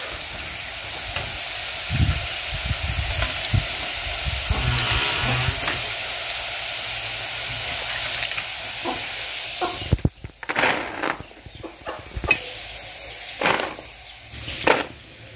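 Soybeans fry in hot oil for a plant-based snack, giving a steady close sizzle and hiss, with stirring and scraping sounds around the middle, then louder clattering scoops and bubbling bursts near the end, with no speech.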